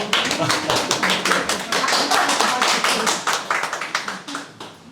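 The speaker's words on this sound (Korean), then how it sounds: "이동훈 박수 한번 주시죠" An audience at a Busan photo gallery artist talk claps in a loose, fairly close burst of individual hand claps that thins out toward the end.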